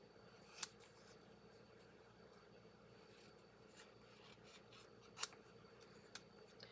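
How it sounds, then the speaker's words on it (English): Small scissors fussy cutting around a printed design on paper for a handmade card, quiet soft rasping snips with two sharper clicks, close and faint, no talking. "I'm just going to go ahead and fussy cut this."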